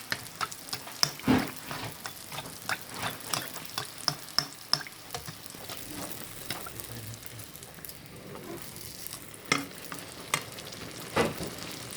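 Hand-shaped semolina beignets (sfenj) sizzle in very hot oil with a steady soft crackle, broken by sharper clicks and splashy stirs as the dough is turned, close and fairly quiet.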